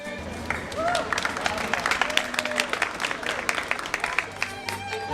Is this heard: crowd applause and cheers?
yes